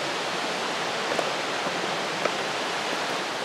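Twin waterfalls along the Pipiwai Trail on Maui pour in a steady, dense roar of falling water, close and continuous with no voices over it.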